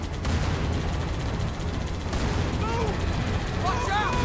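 Heavy sustained gunfire and artillery-like blasts rumble through a chaotic Halo video game battle against two Scarabs, loud and continuous, with shouted voices and chirpy electronic tones rising near the end.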